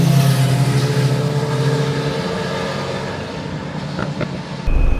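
A Honda Africa Twin motorcycle ridden on the roads of Tenerife gives a loud, close engine drone with a steady low rumble and wind rush, easing slightly before a sharp burst near the end.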